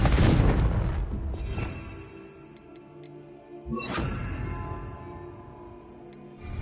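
Confringo fire spell blasts in the Hogwarts Legacy video game: a loud broadband burst opens, then a second sharp blast follows a few seconds later, with faint ticking game effects between.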